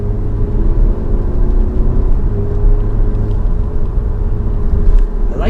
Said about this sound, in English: I like the sound of this motor though.